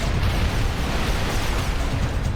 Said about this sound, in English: explosions going off underneath you constantly